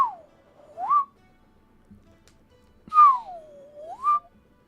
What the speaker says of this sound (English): I just recorded myself whistling in the mic and then put that same filter on it.